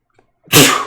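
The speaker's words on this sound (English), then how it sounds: "I'm gonna sneeze again." A single loud, explosive sneeze bursts out after a brief quiet moment, close up and sharp.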